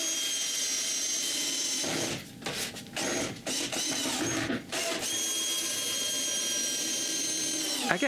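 A power drill driving screws into wood while building a rack for snowshoes, heard as steady whirring bursts with short pauses between screws, fairly close and with no talking.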